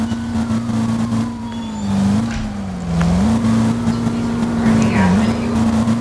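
A riding lawn mower engine in a video game driving through Liberty County during a police chase, giving a steady close drone that dips briefly in pitch a few times.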